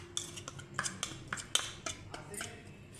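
A spoon clinks against a small bowl while achar gosht masala is stirred into lemon juice, giving light, irregular metallic taps and scrapes at close range, with no talk.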